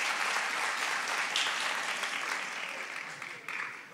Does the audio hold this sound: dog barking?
no